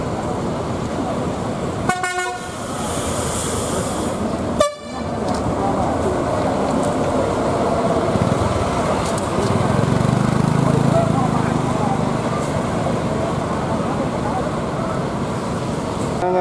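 A Tronton bus pulls away from a bus terminal with a deep, loud rumbling engine that swells as it moves, preceded by two sharp horn blasts, amid busy terminal background noise.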